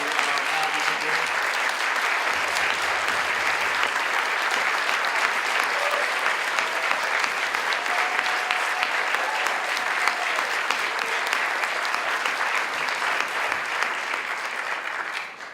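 Sustained audience applause at a public event honoring guests, a dense crowd of many hands clapping steadily for about fifteen seconds, with a few voices briefly under it at the start.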